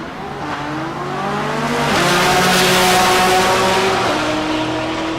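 A GTR race car accelerates hard at Tulsa Raceway Park, its engine note climbing through loud, rising gear sweeps with a brief shift dip midway, close and sustained for about five seconds.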